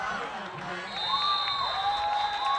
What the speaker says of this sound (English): You could hear the crowd react to that block.